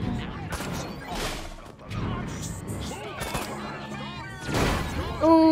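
Explosions and crashing impacts in the video game Destroy All Humans!, a chaotic run of loud bangs, smashes and debris bursts following one another over several seconds, with a voice talking in between.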